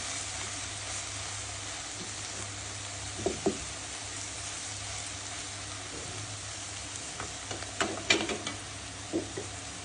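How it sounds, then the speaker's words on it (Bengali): Cabbage fried with shrimp in a pan gives a faint, steady sizzle with a few light scrapes and clinks of stirring near the end. "ফাইনালি আমার পাতাকপি চিংড়ি মাছ দিয়ে ভাজা কমপ্লিট"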